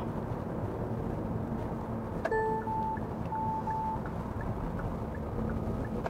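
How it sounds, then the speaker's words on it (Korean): Inside a small car driving along, a blind-spot warning alert sounds a short chirp followed by a few thin, repeated electronic beeps, faint beneath the steady rumble of road and engine noise. "지금처럼 이렇게 후측방 경보도 아주 잘 울리고요."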